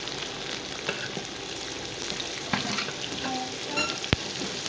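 Okra (bhindi) fries in oil in a pan, giving a steady, close crackling sizzle throughout with occasional stirring clinks and a sharp metallic tap near the end.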